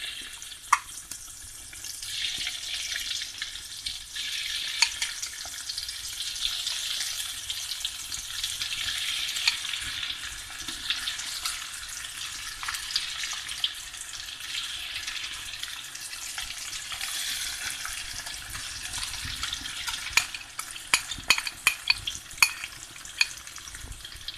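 Egg manchurian pieces deep-frying in rice bran oil, a continuous bubbling sizzle held at a moderate level, with scattered sharp clicks and spatters growing busier toward the end; no one speaks.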